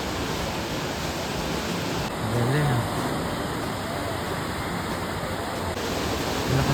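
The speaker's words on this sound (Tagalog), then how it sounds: "Lakas ng alon." Strong ocean surf roars in a steady, broad wash at a surfing beach, loud and continuous, while people speak briefly over it.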